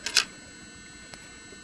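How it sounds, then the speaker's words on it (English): Old scissors snipping thin copper wire while tying a caddis larva fly, one sharp close metallic snip followed by a faint click, otherwise quiet. "Use your old scissors to cut the copper wire,"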